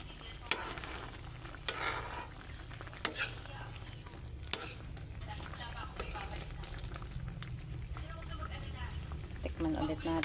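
Patola (sponge gourd) and sardines fry in a pan, a steady sizzle running throughout with intermittent scraping and clinking as a utensil stirs the mixture, occasional sharp metallic taps standing out.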